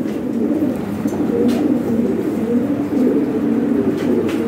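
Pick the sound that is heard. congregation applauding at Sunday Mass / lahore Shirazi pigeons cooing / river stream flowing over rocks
lahore Shirazi pigeons cooing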